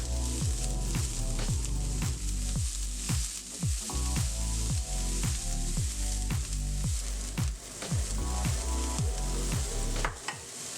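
Vegetables sauté with salt in a hot pan, a steady loud sizzle broken by regular rhythmic stirring scrapes throughout, with no talking.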